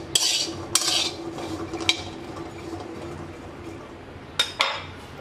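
Small potatoes with their skins are stirred in a pan with a utensil, giving a few sharp metallic scrapes and clinks separated by quiet stretches, close and brief, with no talking.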